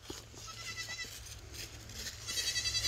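Goats bleat on a farm while being moved to pasture, repeated wavering cries at moderate distance over steady low background hum, growing louder near the end.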